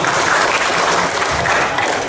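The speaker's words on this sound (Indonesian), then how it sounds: "Tepuk tangan untuk Anda semua." A loud, dense round of applause from an audience at a motivational seminar fills the whole moment, close and continuous without a break.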